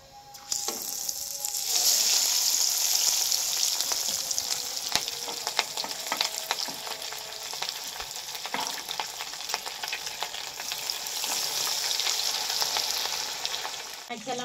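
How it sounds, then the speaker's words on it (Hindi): Fish frying in a pan at a village home, a steady broadband sizzle with occasional crackles and stirring that runs the whole time, loud and close, with no talk over it. "चला मछली साड़ी ना फ्राई हो गई आ"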